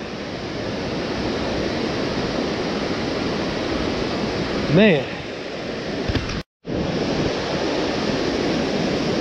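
Water pours steadily down the sides of a dam in winter, a constant loud rushing roar filling the whole clip with a brief cut, while someone briefly speaks over it.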